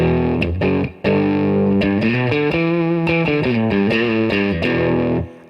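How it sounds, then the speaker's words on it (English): Electric guitar through a Roland Blues Cube amp's clean channel with a mid boost, chords ringing loud and sustained as gritty breakup creeps into the tone, one brief gap near the start. "although this is the clean channel, you're beginning to hear that breakup beginning to happen"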